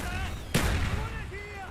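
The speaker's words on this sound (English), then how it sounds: "Mortars inbound!" A single sharp, booming mortar impact hits once in the shooter game Call of Duty Black Ops, cutting through a quieter backdrop of battlefield ambience and distant tonal sounds.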